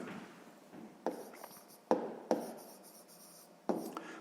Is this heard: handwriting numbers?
yes